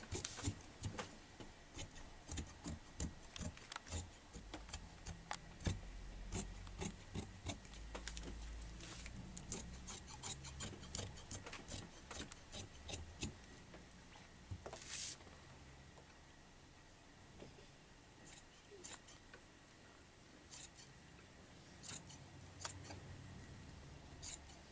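Scissors snipping through fabric while an Isi Agu off-shoulder blouse is cut out, a steady run of close, crisp blade clicks and rustling cloth with brief pauses, fading to quieter handling near the end.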